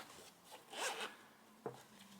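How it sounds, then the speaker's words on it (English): The pull zip on a protective travel case for a 5-in-1 MagSafe travel charger is drawn open in a quick, close, raspy stroke, followed by a brief softer zip. "it comes first of all in this really nice case for protection with a nice pull zip on it"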